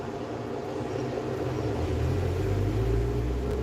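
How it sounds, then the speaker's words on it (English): A loud truck passes outside a home, a steady low engine rumble that swells toward the end, with no talk over it. "I don't know what kind of loud car that is. Oh, it's a truck."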